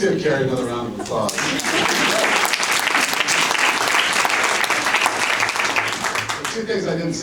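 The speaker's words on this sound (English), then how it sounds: "Let's give Carrie another round of applause" An audience at a University of Michigan social work award ceremony breaks into sustained applause for Carrie, clapping loud and steady, with speech before and after.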